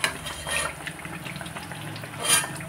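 Malpua pancakes fry in hot oil with a soft, steady sizzle, with a few light clinks and scrapes of a utensil in the pan and a brief louder stir near the end.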